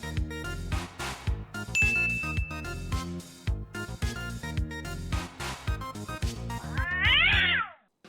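A house cat meows once in a video game, a clear rising and falling cry near the end, heard over continuous background music.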